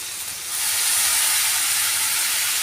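After a brief quiet moment, water hits frying spices with ground garam masala in a pan for chickpea bhuna, and a sudden loud steamy hiss surges up and holds steady.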